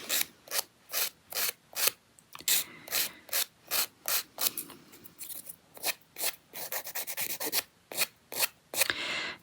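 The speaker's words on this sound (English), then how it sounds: "And then I've just got a file that's quite old." An old, moderately coarse file rasps against the outer edges of an artificial nail tip in quick, regular back-and-forth strokes, close and crisp, about eighteen short scrapes with brief pauses between them.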